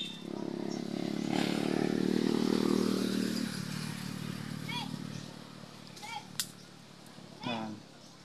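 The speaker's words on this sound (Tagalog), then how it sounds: "Yan, may motor dumaan mga kabams." A motorcycle passes along a road beneath a chico tree, its engine drone swelling and then fading over a few seconds, followed by a few light clattering sounds.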